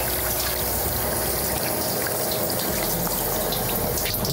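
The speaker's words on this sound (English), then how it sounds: "Once you're done, you want to rinse off the fish." Running water from a tap rinsing a freshly cleaned striped bass, a loud, steady close splashing rush with no talk.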